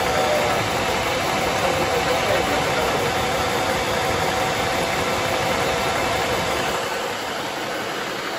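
A large New Warrior Luxury 2.0 kW oil-lubricated air compressor with an oil-filled crankcase runs steadily and loudly at close range, giving a continuous broadband motor hum that drops slightly in level near the end.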